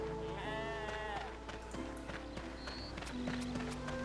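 Sheep bleating in the RuneScape 3 video game, several wavering game bleats mixed with quick running footsteps and clip-clop sounds over a steady game background.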